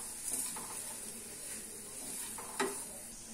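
Semolina and curry leaves stirred in a pan for upma, a faint soft sizzle with a few light scrapes and one sharper clink of the spoon near the end, quiet and close, no talking.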